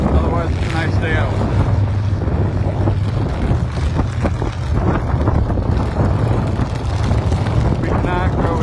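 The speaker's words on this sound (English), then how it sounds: "Windy, very windy." Strong wind gusts across an outdoor race pit area, roaring and buffeting loudly and without pause while a person talks over the noise.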